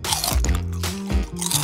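A crunchy snack bitten and chewed, a few sharp close crunches in quick succession, with no talk over them.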